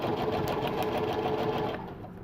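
A sewing machine runs steadily as it stitches paper piecing for a quilt block, a fast, even mechanical whir up close that slows and softens near the end, with no talking.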